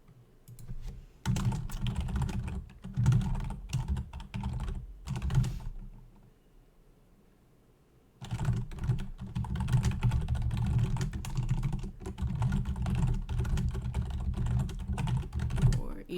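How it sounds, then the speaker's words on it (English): Rapid clacking of keys on a computer keyboard, close and busy, with a few seconds of near silence in the middle before typing resumes. "So I'm just typing"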